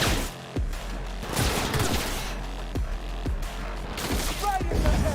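Gunfire in the Cyberpunk 2077 video game: rapid, repeated sharp shots in steady bursts over a dense, busy game soundscape, with voices talking beneath.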